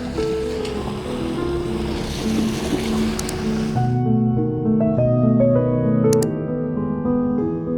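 Water waves surging and washing in a steady broadband rush, loudest through the first half before tonal sounds take over the latter part.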